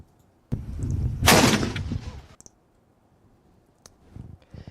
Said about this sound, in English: officials fired off an antique cannon, kicking off this week's festivities